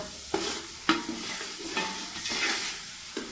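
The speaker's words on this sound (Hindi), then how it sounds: "ये देखें हल्का सा मैं इसे फ्राई कर लूँगा" Chicken biryani ingredients lightly frying in a pan, a soft sizzle broken by several sharp stirring clacks of a spoon against the pot, no talk.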